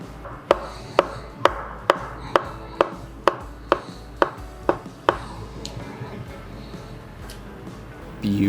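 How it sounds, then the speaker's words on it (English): A knife cuts an avocado on a board with about ten crisp, evenly spaced chopping taps, close and clear, then trails off into quieter handling. "I'm just going to cut this thing in half and get some nice slices out of this thing"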